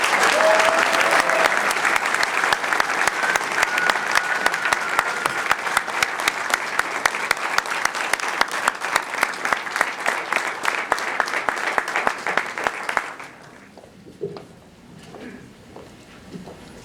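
Audience applause at a combat medic graduation, a loud, sustained burst of many people clapping that runs for about thirteen seconds, then cuts off into a quiet room with a few stray sounds.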